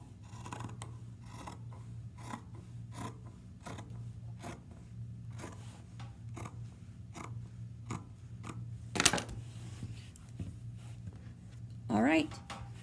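Scissors cutting across fabric for a drawstring bag, a series of quiet regular snips over a low steady hum, ending in a couple of louder longer cuts, close but faint.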